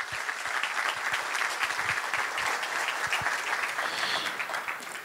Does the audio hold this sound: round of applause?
yes